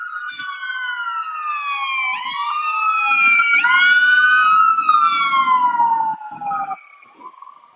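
Emergency vehicle sirens wail loudly and close by, their rising and falling tones sweeping over several seconds before fading slightly at the end, with faint low rumbles underneath.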